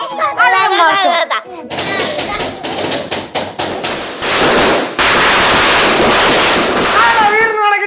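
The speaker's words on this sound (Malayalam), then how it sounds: "രാവിലെ പടക്കം പൊട്ടിക്കണത് ചിലപ്പോഴേ കണി കാണിക്കാൻ വേണ്ടി ഒന്ന് പിള്ളേരായിരിക്കും." A rapid string of loud firecracker bangs for Vishu gives way to a dense, crackling volley, with people talking just before and after.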